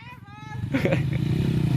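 An enduro motorcycle engine revs and pulls on a slippery, tricky trail section, its steady drone growing louder and closer after a quieter start, with a person shouting coaching instructions over it.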